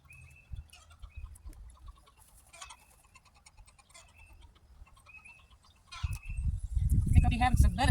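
Backyard hens cluck after one has just laid an egg, scattered clucks and calls sounding at moderate distance over garden ambience, with louder rustling and handling noise near the end.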